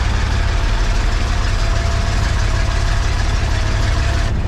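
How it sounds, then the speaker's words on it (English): A boat engine runs steadily 25 miles offshore on a salmon-trolling trip, with a constant loud low drone and a faint thin squeak persisting over it, and no talk. "A little squeaky noise from the engine."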